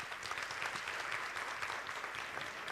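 A church congregation claps during a sermon, a dense, even patter of many hands sustained throughout at moderate loudness.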